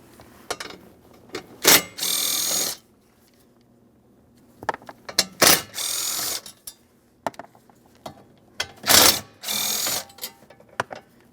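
Ratchet backing out 10mm mounting bolts on a metal plate in a 2005-2010 Chrysler 300, with three close, loud bursts of rapid clicking, each ending in a sustained ratcheting run, separated by quieter pauses and no voices.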